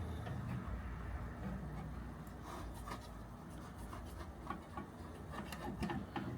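An aquarium scraper rubs algae off glass fish-tank walls in repeated up-and-down strokes, a faint, close-up scratchy rasping with small clicks, growing busier toward the end, without any speech.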